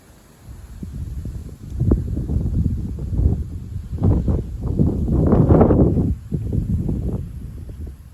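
Gusty south-east wind blows at night around 22:00, buffeting the microphone in rumbling, uneven surges that swell and ease over several seconds, with a faint steady high hum and no talk.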